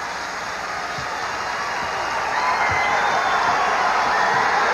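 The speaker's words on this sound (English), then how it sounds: "And the DePaul crowd on its feet again." A DePaul basketball crowd rises to its feet in a Sweet 16 game against LSU, a broad sustained roar that swells slightly and carries under faint commentary.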